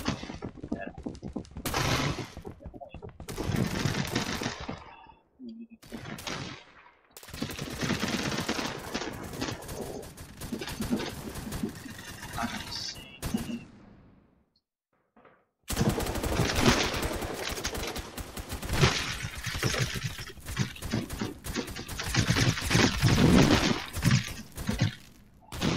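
Gunfire in the online shooter Phantom Forces: dense bursts of automatic fire and scattered shots fill most of the stretch, with a brief silent gap in the middle.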